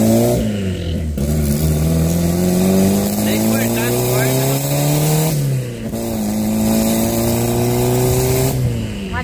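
A Honda Civic with a turbo engine and a misfiring turbocharger revs loudly and repeatedly. It gives about three long rising pulls, each separated by a brief drop in pitch, close to the car.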